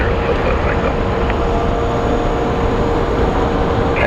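A plane at Phoenix Sky Harbor International Airport makes a steady, loud broadband roar with a low rumble, continuous and unbroken throughout, with no clear rise or fall in level.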